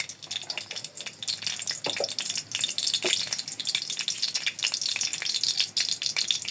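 Dried chillies, cardamom and cinnamon hit hot oil for lentil dal, giving a crackling, spitting sizzle with sharp pops and bursts over a steady hiss, close and fairly loud, no talk.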